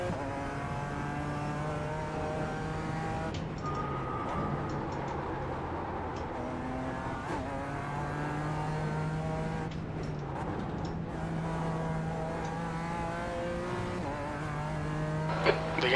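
Race car engines drone steadily in the iRacing sim at the Nürburgring Nordschleife, with continuous harmonic whine shifting pitch through gear changes as cars run close together for position, loud and unbroken throughout.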